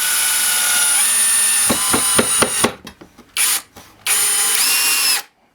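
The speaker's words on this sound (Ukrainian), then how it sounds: "Давайте перевіримо, як працює муфта крутного моменту на першому положенні." A Grand 16V brushless cordless screwdriver drives a 12 mm furniture screw: a high motor whine, then a run of rapid clicking bursts as the torque clutch slips, with short stop-start pulses before a final sustained whir that cuts off.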